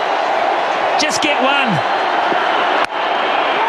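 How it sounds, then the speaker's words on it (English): A packed cricket ground roars for Brendon McCullum's century, a loud continuous crowd cheer that never drops, with a commentator talking over it and a brief whoop partway through. "The crowd's going nuts here."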